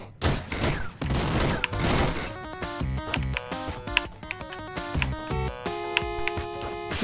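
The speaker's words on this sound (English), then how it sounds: "That's making bullets go everywhere, that's so cool." Gem-powered bullets fire in the game Downwell, a dense rapid fusillade of chiptune blasts and bleeps sprayed in quick bursts over game music, continuous and fairly loud.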